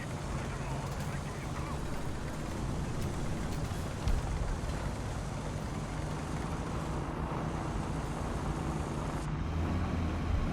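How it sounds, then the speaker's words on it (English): Tank engines driving in the War Thunder video game: a steady low rumbling drone with a faint mechanical hum, continuous and moderately loud throughout. "so I hear 2 different engines"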